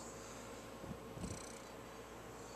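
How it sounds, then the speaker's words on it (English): Smokey, a pet cat lying on his bed, purrs in a low, steady, continuous rumble, quiet and close, with a couple of faint brief rustles partway through and no talk. "And I got my cat Smokey"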